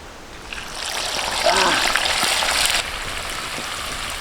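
Whole quail dropped into hot oil in a pan, giving a loud, sudden burst of splattering sizzle that swells, holds steady, then settles into a softer continuous fry.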